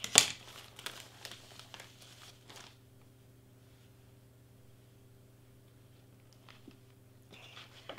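Bag of blue cotton candy being opened, faint plastic crinkling and rustling at the start, then near quiet with a low hum and a brief crinkle near the end.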